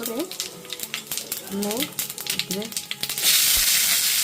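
Cumin seeds with dried red chillies crackle and splutter in hot oil for an okra and potato fry, a busy close crackle under sweeping background tones that swells into a dense, loud sizzle near the end.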